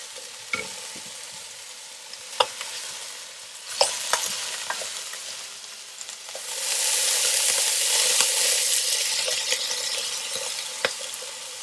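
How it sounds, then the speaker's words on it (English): Beef chunks sear in a hot pan for boeuf bourguignon, a steady sizzle that swells louder in the second half, punctuated by scattered sharp crackles and spits close up, with no voices. "When I'm happy with the sear, I'll take this batch out and put the next batch in and just repeat the process."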